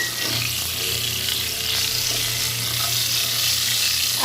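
Potato and pointed gourd fry in hot oil with a continuous close sizzle and occasional soft scraping, steady and unbroken, with no voices.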